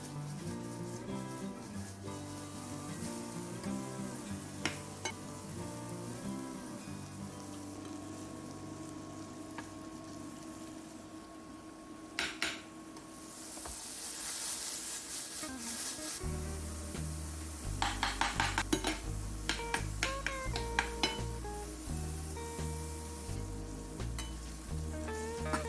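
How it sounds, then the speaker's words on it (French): Mushrooms sautéing in a very hot pan with a drizzle of olive oil give a faint, continuous sizzle beneath a steady background of quiet music, with occasional clicks and taps. "Je les fais sauter dans une poêle très chaude avec un filet d'huile d'olive."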